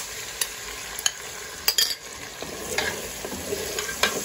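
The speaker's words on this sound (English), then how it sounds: "Stir very well." Onion and tomato paste stirred in a cooking pot over heat, with a steady low sizzle and irregular scraping strokes of the spoon against the pot, close and moderately loud.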